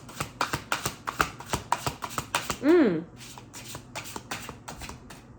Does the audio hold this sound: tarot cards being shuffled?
yes